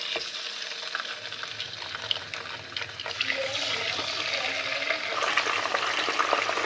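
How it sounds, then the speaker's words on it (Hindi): Chicken pieces frying in hot oil in a kadai for a chicken roast, a continuous loud hissing sizzle with crackles that grows fuller midway as more pieces go in, no speech. "सबसे पहले ना मैंने कढ़ाई में तेल को अच्छी तरह से गर्म कर लिया है और ये जितने चिकन पीसीज है ना एज इट इज़ ऐसे ही हम लोगों ने जो है ना वो फ्राई करने हैं।"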